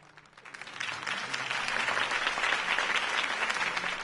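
Crowd applause at a campaign rally in the Batman Telltale Series video game, swelling quickly from a few claps into a dense, sustained ovation from a large audience.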